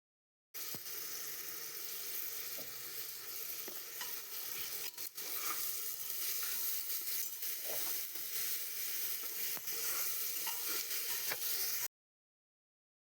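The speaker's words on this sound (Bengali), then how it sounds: "তো আমার পেঁয়াজটা ভাজা ভাজা হোক ওখানে" Onions frying in ghee in a cooker give a steady, close hiss of sizzling with scattered stirring scrapes and small clicks, continuous for about eleven seconds with no voices.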